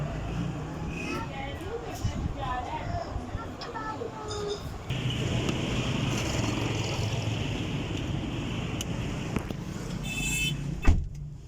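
A car on a road trip from Karachi to Islamabad is driven, its engine and road noise forming a steady rumble throughout, with people talking over it and a brief sharp knock near the end.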